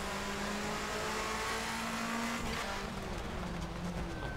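1990s DTM touring race cars racing in Assetto Corsa: a steady engine drone at high revs holds throughout, with several cars running together in a constant pack.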